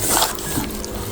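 Chicken wings are tossed by hand with garlic powder, onion powder and smoked paprika, giving a short, close, wet squishing of moist meat in a bowl, quiet and alone.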